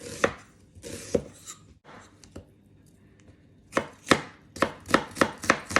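Knife chopping shallots on a board: a few scattered cuts, a pause, then a quick, steady run of crisp, close chops. No one speaks.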